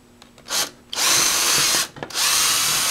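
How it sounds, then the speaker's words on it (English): A power drill makes 1/8-inch pilot holes in a splitboard, whirring in two sustained bursts after a short initial spin, each run lasting about a second with brief pauses between, loud and close. "you're going to make pilot holes with a 1/8 drill bit"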